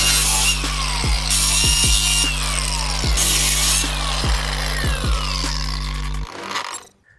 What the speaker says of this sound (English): Let's get to cut this bumper.